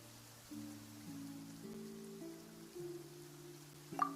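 Steady light rain hisses in a video game, a soft constant patter beneath a low, slowly shifting musical drone, with a brief sharper tick near the end.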